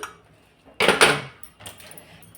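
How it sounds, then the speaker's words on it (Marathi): A pressure cooker holding potatoes is opened: a couple of close, sharp metallic clanks and rattles of the lid, with quiet moments between. "कुकर उघडून बघू"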